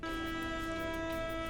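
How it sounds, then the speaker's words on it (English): All-clear alarm at a plant, a continuous steady horn-like tone holding without break over background noise. "The all clear alarm sounds like this."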